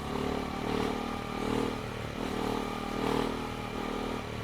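A motorcycle engine held in a wheelie drones steadily up close, its pitch rising and falling gently with small throttle adjustments, loud and continuous with no one talking.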